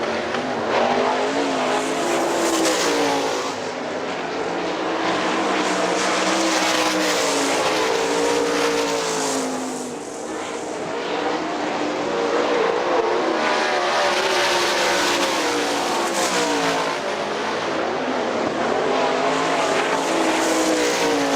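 Outlaw sprint cars roar around the dirt oval at Hartford Speedway, a loud continuous engine howl rising and falling as the pack passes, with tire scrub and no talk.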